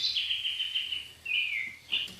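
A robin's song played back as a recording, a run of high, thin whistled phrases with short pauses between them, clear and close with no talking over it.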